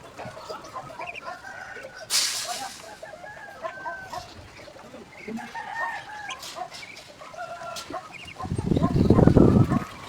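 Domestic pet ducks call and cluck in a steady stream of close bird sounds, with a loud, rough rustling burst near the end that may be flapping or scuffling.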